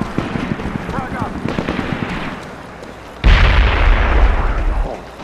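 Frag grenade blast in the SOCOM 4 shooter game: a sudden loud boom with a long rumbling tail, preceded by game gunfire and battle noise, with a voice speaking over the opening.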